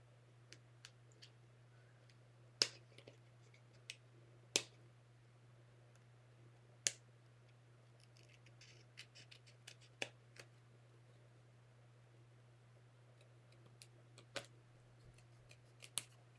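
Scissors trimming excess paper or craft material, sparse quiet snips and clicks spaced irregularly over a faint steady hum, close and soft.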